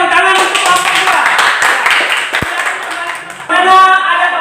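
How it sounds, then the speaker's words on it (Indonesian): A classroom group applauds a student discussion group after their presentation, a dense wash of many hands clapping together under overlapping voices, dipping briefly before a louder burst near the end. "tepuk tangan untuk kelompok 2"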